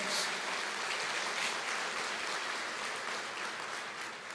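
After a sermon reading, a church congregation gives a sustained wash of applause, fairly soft and distant, with an even hiss-like texture from start to finish.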